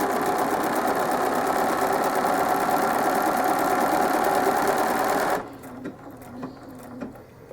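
Sewing machine running a continuous double-triple stitch across a quilt, a steady dense mechanical whir for about five seconds, then it stops and only faint handling noises and light clicks remain.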